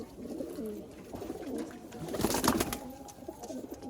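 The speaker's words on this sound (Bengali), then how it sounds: "পুরো পিওর একদম পাঞ্জাব থেকে আনা পায়রা এগুলো সব" Pure Punjabi Malwai pigeons brought from Punjab coo softly and continuously at close range, swelling into a louder, throaty burst midway before settling back to low murmuring.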